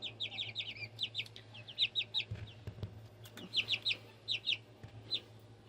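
Baby Silkie chicks peep in quick, high bursts of repeated chirps, fairly close, over a steady low background hum and a few soft bumps.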